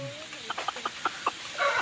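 A chicken clucks in a run of short, rhythmic bursts close by, ending in a louder squawk.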